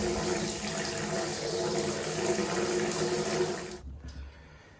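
Water rushes steadily through household plumbing at a tap after a drip stopper is removed, a loud continuous flow that cuts off abruptly near the end, leaving a brief low rumble.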